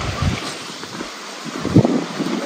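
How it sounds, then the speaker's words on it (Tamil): Wind gusts outdoors, rough blustery buffeting against the microphone that swells and fades, with a stronger gust near the end and no clear speech. "காற்று இப்படி அடிக்கிறது"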